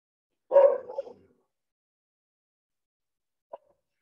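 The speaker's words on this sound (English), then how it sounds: "my dog is barking at something" A dog barks indoors in a short burst of two or three barks, followed by a long silence and one more faint, brief yip.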